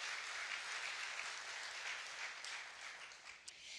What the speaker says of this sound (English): absolutely deserves a round of applause